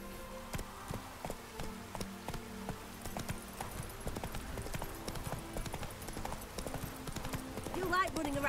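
A horse gallops in The Witcher 3 video game, its hooves beating a fast, regular clip-clop rhythm up close, with music and game sounds underneath and a voice speaking.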